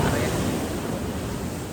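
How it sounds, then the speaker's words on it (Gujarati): Rough sea surf on the Gujarat coast as a cyclone hits, a loud, continuous broadband roar of breaking waves mixed with wind buffeting, filling the whole stretch without pause. "દરિયો ખાલી થતો એવડો મોજો આવો જ ન જાય યાર"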